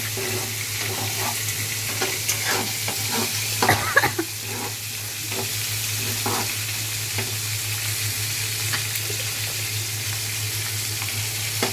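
Fish cooking in a pan with turmeric powder, tomato, green chilli, ginger and garlic: steady loud sizzling and frying, broken by repeated scraping and clatter of stirring, with a low hum underneath.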